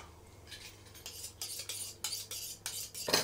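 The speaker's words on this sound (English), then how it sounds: "Just need to sharpen my knife." A butcher's knife is drawn along a sharpening steel while breaking down a forequarter of beef, giving a series of about eight bright metallic scraping strokes in a steady rhythm, close and fairly quiet.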